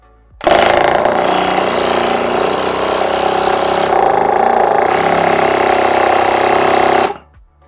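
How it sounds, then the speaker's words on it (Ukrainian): A small 12-volt AMIO HQ Acomp-04 car air compressor runs loudly and steadily for about seven seconds with a harsh, rattling mechanical buzz, switching on abruptly and cutting off at the end. "Зараз ми під'єднаємо компресор на 12 вольт."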